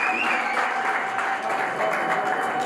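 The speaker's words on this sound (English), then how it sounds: "Round of applause, please." An audience at a welcoming ceremony in Asmara applauds, a short, dense burst of sustained clapping at an even level, with a faint steady tone running beneath the crowd.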